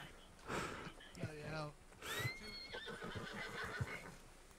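A horse in the video game Red Dead Redemption, on a roleplay server, gives a loud, shaky whinny after falling over, with hoof clip-clops and a second neigh while people talk over it.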